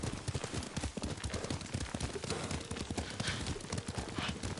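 Horse hooves clip-clop in a steady rhythmic gait while riding in the samurai game Ghost of Tsushima, close and continuous, with an occasional faint whinny and a bed of ambient game sound.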